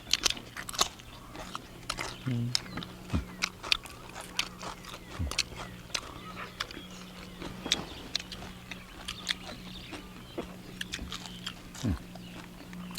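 Crunchy deep-fried quail eaten whole, bones and all, with chili dip, giving repeated close crisp bites and chewing crunches in an irregular rhythm, with a low steady hum underneath.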